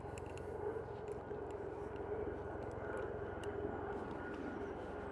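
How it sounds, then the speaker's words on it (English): A helicopter passes overhead outdoors, its steady broadband engine and rotor roar filling the whole stretch at a constant, moderately loud level without clear approach or fade. "Cue the helicopter."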